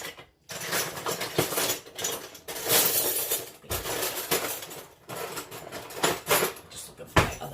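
Metal utensils clinking and rattling in a kitchen drawer while someone rummages for a spatula, a busy run of close clatters and scrapes, with talk mixed in.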